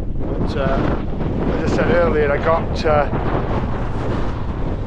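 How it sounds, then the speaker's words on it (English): Strong wind gusting around 40 roars and buffets the microphone at a Hilleberg Soulo tent camp in the Lake District while someone talks over it, the gusty rumble constant throughout. "The tent's been fine, just noisy because of the wind."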